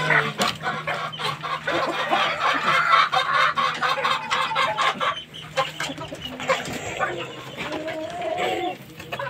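Bolick green-legs gamecock chickens, including a breeder hen, cluck and squawk continuously nearby, a busy, overlapping flock noise with a voice briefly audible in the background.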